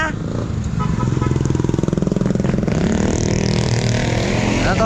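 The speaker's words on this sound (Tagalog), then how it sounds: "Parang iba na yung motor mo ah." A motorcycle engine runs loud and close, its steady harmonic drone rising in pitch toward the end like a rev, with street background noise underneath.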